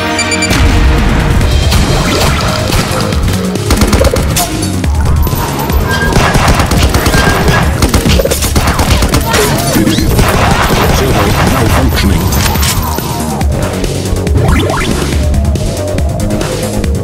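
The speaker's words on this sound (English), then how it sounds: "Explosion coming up." Dense, continuous barrage of rapid gunfire and booming explosions from the run-and-gun video game Huntdown, loud and layered over a driving game soundtrack with no pauses.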